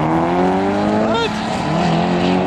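A Golf R and a Subaru launch side by side in a drag race at 5000 ft elevation, with loud revving engines, rising harmonic tones, a brief chirp or skid midway and steady close-up roar throughout.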